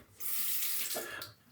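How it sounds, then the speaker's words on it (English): Cold water runs from a bathroom tap to wet a razor for shaving, a bright hissing gush that starts abruptly, holds steady for about a second, then cuts off, close and alone. "Here, let's get it wet again. Just some cold water."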